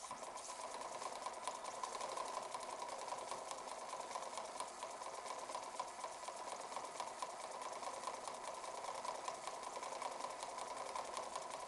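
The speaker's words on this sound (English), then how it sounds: "It's a little bit noisy because the Meccano gears aren't made terribly accurately." Model twin-cylinder steam engine running slowly on air, driving loosely meshed Meccano gears, gives a steady, dense mechanical whirring and clatter that stays constant and close throughout, with no talk.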